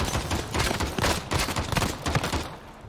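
Desert Eagle pistol fire in Modern Warfare, a loud, dense run of heavy shots cracking in quick succession for nearly three seconds with no voices over it.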